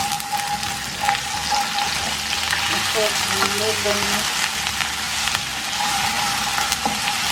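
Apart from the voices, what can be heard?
ginger garlic paste frying with onions in pan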